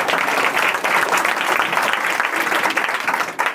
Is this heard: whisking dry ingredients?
no